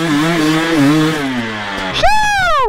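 A dirt bike engine revs hard close by, pitch sliding down through a sustained high-rpm drone before snapping up sharply into another loud rev at the end.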